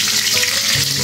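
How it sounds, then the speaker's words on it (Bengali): Whole spices, namely cinnamon, bay leaves, cardamom and cloves, fry in oil for biryani, producing a dense, loud, continuous crackling sizzle up close with no pauses. "তেলে ভেজে নিচ্ছি"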